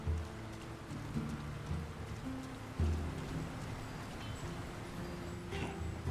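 Steady rainfall in a town in the video game LOTR War in the North, a continuous hiss of drops with a low droning game soundtrack underneath, no voices.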